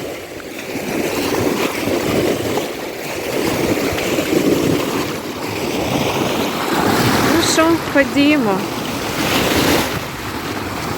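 Black Sea waves washing onto an Odesa beach, a steady broadband surf roar with wind buffeting the microphone; a person speaks briefly partway through, and a faint whistle-like tone rises over the surf.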